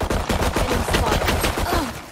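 Rapid pistol fire in the video game Valorant: about eight or nine sharp, loud shots in quick succession, close and punchy, filling the whole two seconds.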